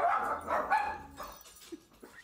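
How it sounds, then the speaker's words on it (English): Dogs bark indoors during a Spyro: Year of the Dragon game session, a burst of loud barks at the start that fades into a few softer yips. "I'm so sorry about the dogs."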